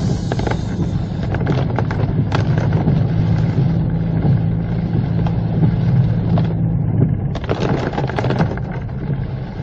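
A Toyota Fortuner 2.8 climbs steadily uphill in heavy rain, its engine a continuous low drone under the patter and rush of rainfall and occasional clunks from the cabin.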